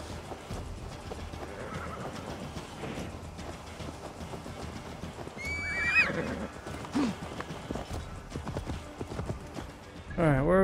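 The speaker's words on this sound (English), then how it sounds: "Where you going, horse?" Horse hooves clip-clop steadily in Assassin's Creed Valhalla, with a clear neigh in the middle and another whinny at the end, under someone talking over game ambience.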